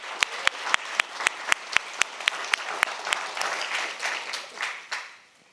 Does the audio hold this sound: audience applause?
yes